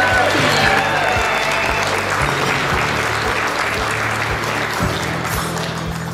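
A crowd claps steadily after a $10,000 check goes to Hero Dogs, dense applause over a low, regularly pulsing background tone, with no clear talk on top.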